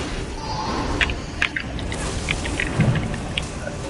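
Lightning strike in the fantasy game ESO during the Asylum Sanctorium trial: a constant stormy hiss and rumble broken by several sharp electric crackles scattered across the moment, fairly loud.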